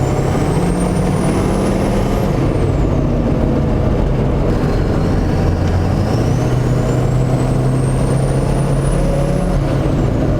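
A Hummer H1 swapped with an LBZ Duramax diesel rolls along, its loud, steady diesel drone and road rumble filling the cab, with pitch rises as it accelerates and air-brake-like hisses, no talking.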